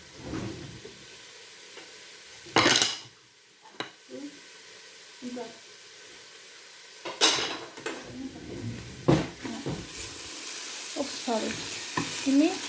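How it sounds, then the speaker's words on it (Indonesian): Onions saute in a pan for Gormeh Sabzi. A soft sizzle runs under intermittent clattering bursts as they are stirred, with a faint voice now and then. "Ini aku saute, aku tumis dulu bawang bombay ini."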